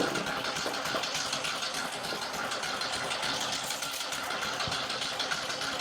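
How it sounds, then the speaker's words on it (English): A Cub Cadet 2544 lawn tractor engine, hot-wired and choked, running loudly and steadily at close range with a constant rough mid-pitched drone and no pauses. "I've got it hot wired, so all I should have to do is crank it."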